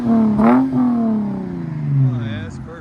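A 2014 Lexus IS 250 with a 2.5L V6, LCGP resonator and muffler delete, revs up and settles back in a couple of smooth swells, loud and close, with a voice briefly over it.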